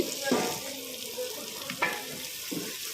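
Boiled cut potatoes and onions frying in a pan, a soft continuous sizzle with scattered stirring clatters and scrapes.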